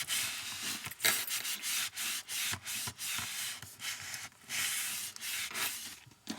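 Paper being rubbed down onto a handmade craft noteboard, close, rhythmic rasping strokes repeated a dozen or so times with short pauses between them, no talking.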